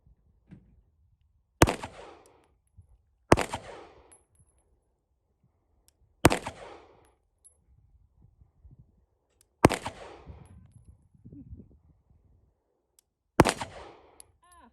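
CZ 75 BD pistol firing on an outdoor range at a steel target, five sharp, loud shots spaced a second or more apart, each ringing briefly with a metallic ping, with low rustle and faint movement between them.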